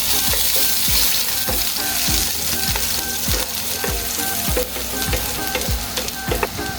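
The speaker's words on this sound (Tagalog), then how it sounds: "magigisa tayo ng bawang at sibuyas at luya" Ginger and garlic sizzle loudly in hot oil in a pan, with rhythmic scraping strokes of a spatula stirring them, steady frying hiss throughout and no talking.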